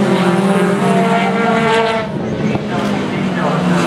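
Race car number 44 accelerates out of a tight right-hand corner toward a hairpin braking zone at a club racing event, its engine droning in rising harmonic tones, loud and close, with a commentator talking over it.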